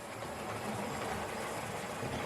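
A Hornby model tank engine runs on a layout with a steady, even motor whir and faint rolling hum, continuous and fairly close, without talk.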